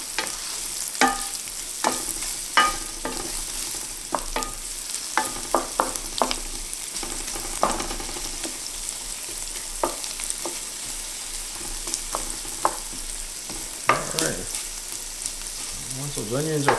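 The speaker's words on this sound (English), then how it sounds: "I can stir around the onions a little bit." Onions fry in a pan for keto steak fajitas, with a steady crackling sizzle broken by scrapes and clinks as they are stirred at intervals, close and moderately loud.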